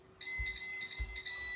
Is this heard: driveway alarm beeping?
yes